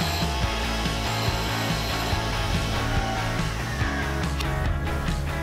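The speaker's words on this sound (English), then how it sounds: "up to the grinding wheel and then just kiss the face of it to know where we need to start from" Steel valve shims for an Aston Martin V8 cylinder head are ground against a grinding wheel in a small machine, a loud continuous abrasive grinding and whirring hum with faint rhythmic scraping throughout.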